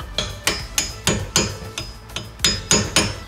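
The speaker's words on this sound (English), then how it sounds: "all we have to do is hammer it in" Hammer striking a punch to drive in brake caliper pins while fitting new big brake pads and rotors on a Maserati: about a dozen sharp metallic blows in a steady rhythm, close and loud, with no talking.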